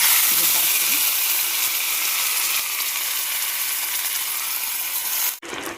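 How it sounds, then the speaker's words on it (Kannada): Onion-tomato paste with cumin frying in oil in a frying pan, a loud, dense, continuous hiss and sizzle close up that cuts off abruptly near the end. "ಈ ಫ್ರೈಯಿಂಗ್ ಪ್ಯಾನ್ಗೆ ಸ್ವಲ್ಪ ಆಯಿಲ್ ಹಾಕ್ಕೊಂಡು ಅದಕ್ಕೆ ಸ್ವಲ್ಪ ಜೀರಿಗೆ ಹಾಕ್ಕೊಂಡು ನಾನು ರೆಡಿ ಮಾಡ್ಕೊಂಡಿರೋ ಪೇಸ್ಟ್ನ ಸ್ವಲ್ಪ"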